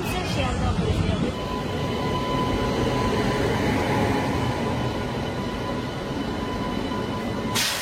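From inside a nearly empty, shiny local train heading to Sealdah, a continuous rumble of wheels and carriage runs steadily and close throughout, with a faint high whine.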